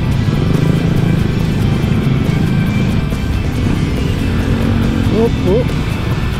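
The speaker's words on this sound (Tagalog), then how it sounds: "Traffic lang, traffic." Afternoon road traffic in Bacoor, with car and motorcycle engines humming in a steady drone around a rider on an ADV 160 scooter, while someone speaks over the noise.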